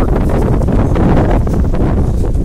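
Extreme wind roars outdoors near a house with damaged roof shingles and toppled trash cans. A loud, continuous buffeting blast batters the microphone throughout.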